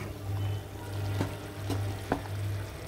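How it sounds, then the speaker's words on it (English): Chicken wing sauce with rice wine, paprika and bacon bubbling in a pan, a steady close sizzle with a low hum and a few sharp pops. "Then I let it boil"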